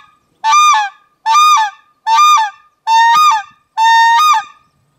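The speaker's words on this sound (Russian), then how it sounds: "мы подаем воздух в манок, не наращивая темп на одной скорости с одним усилием" A white-fronted goose call blown by hand gives five loud, close honking calls in an even rhythm, each a short bright two-note yelp with a sharp break, separated by brief silences.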